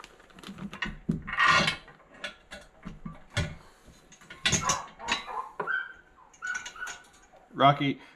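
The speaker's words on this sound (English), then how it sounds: "dog's barking" A dog barks a few times in the background while a person talks and metal parts clink nearby.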